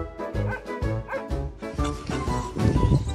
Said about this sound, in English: They'll be barking at me to get out the van